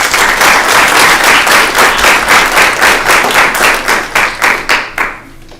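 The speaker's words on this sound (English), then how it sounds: "Give him a round of applause." A student government meeting audience breaks into loud, close applause, with individual claps distinctly pulsing in rhythm before thinning out and stopping near the end.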